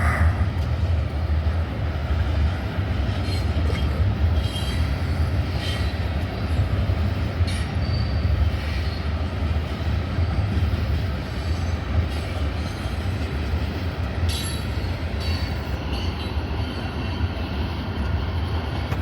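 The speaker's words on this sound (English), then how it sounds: "Sounds like the engine's coming up" A train locomotive approaching on the main line, a steady heavy rumble of engine and rolling wagons with faint wheel squeal, continuous and moderately close without much change.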